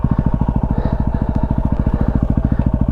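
A motorcycle engine thumps in an even, rapid rhythm, loud and close, as the bike rides downhill on a cold Lake Mountain road in Victoria, Australia.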